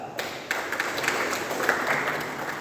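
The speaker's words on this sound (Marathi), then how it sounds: "टाळ्या." A room full of people claps together in steady applause, a dense wash of hand claps lasting a couple of seconds.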